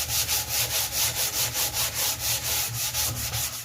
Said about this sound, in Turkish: Hepsini güzelce zımparalıyoruz arkadaşlar.